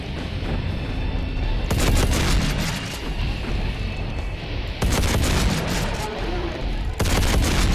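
Rapid bursts of shotgun fire in Brutal Doom II blast in repeated volleys, loud and dense, separated by short gaps with a roaring background.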